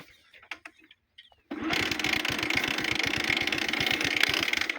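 A Bajaj Platina motorcycle, in neutral and with a failed self-starter coil, is kicked into life after a few faint clicks, then settles into a loud, close, steady putter at idle.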